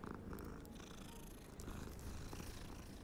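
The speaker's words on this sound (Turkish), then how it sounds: "Kediyi sevelim." A cat purring as it is petted in the video game Hogwarts Legacy, a steady, continuous low rumble running alone for about three seconds with no talk over it.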